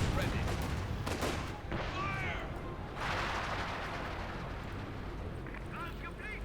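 Gunfire and explosions from the Company of Heroes 2 battle, with bursts of shots and booms running continuously under a commentator's steady talking.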